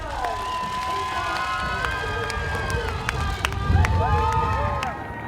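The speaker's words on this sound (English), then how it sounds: "Big crowds urge on the men's leaders" Big roadside crowds at the 2014 New York City Marathon cheer on the men's leaders, a dense roar of shouts, whistles and noisemakers, swelling near the end, with a commentator talking over it.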